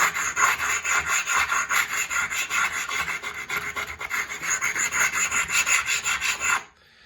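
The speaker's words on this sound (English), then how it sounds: "all you really need to do is take your sanding stone and go over the edge" A sanding stone rasps back and forth along a chipped ceramic tile edge in quick, regular strokes, a close, gritty scraping rhythm that continues for several seconds before stopping abruptly, with no voices.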